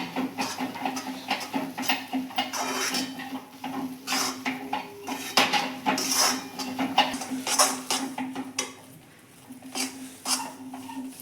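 A peanut and jaggery mixture for sing paak is stirred in a pan, giving steady scraping and clinking of a metal spoon against the pan, close and continuous with no talking.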